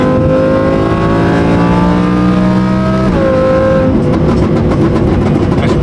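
An Audi R8 exhaust revs hard at high RPM, a loud sustained engine wail that climbs in pitch, drops briefly after about three seconds and then roars on, with no voices over it.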